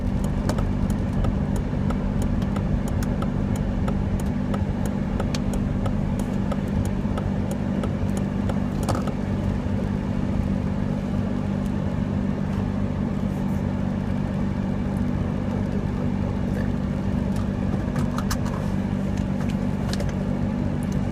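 Steady engine and road drone from inside a 2009 Volvo S60 2.5T on a test drive, a constant low hum with faint ticks and rattles and no speech over it.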